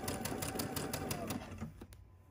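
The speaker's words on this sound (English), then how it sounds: "I'm just gonna run these 4 pairs of quarter circles along, sewing that accurate 1/4 inch seam." A sewing machine stitching quarter-inch seams on quarter-circle quilt pieces runs in a steady rapid rhythmic patter up close, then slows and stops with a couple of final clicks.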